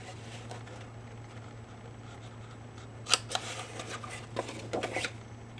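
Scissors snipping the top off a papercraft box envelope, a few short crisp cuts near the end over a quiet steady hum, no talking.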